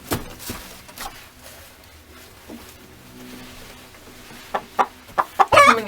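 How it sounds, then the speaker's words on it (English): Chickens in a coop, with faint rustling and scattered knocks followed by a quick run of sharp clucks near the end, fairly close and alone without talk. "it's really nice to come in and see our chickens laying eggs daily"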